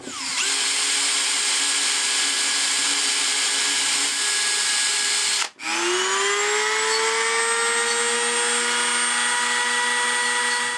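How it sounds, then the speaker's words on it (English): A power drill whines steadily at high speed boring holes in nylon on a 1971 Mattel VertiBird toy, briefly stopping and restarting with a rising pitch as it spins up again, close and loud. "So I'm going to drill a hole through the side."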